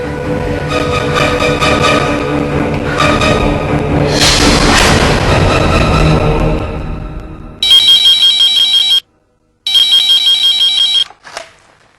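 After a loud dramatic musical passage with a boom, a telephone ringtone sounds in two bright, pulsing bursts separated by a short silence.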